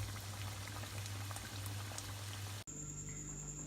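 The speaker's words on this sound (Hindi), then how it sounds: "अब 4-5 मिनट इधर से फ्राई करेंगे" Chicken kachori deep-fry in oil, giving a soft, continuous bubbling fizz heard close up; the sound cuts abruptly near the end.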